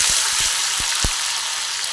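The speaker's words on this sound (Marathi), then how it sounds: "इथं तेल तापले. आता आपण याच्यात थोडीशी आलं लसणाची पेस्ट घालून घेऊ." Ginger garlic paste sizzles in hot oil in a pan while cooking a spinach and peanut vegetable dish, a steady broadband frying hiss with a few soft low pops and no talking.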